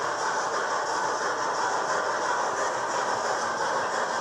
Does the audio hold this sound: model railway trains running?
yes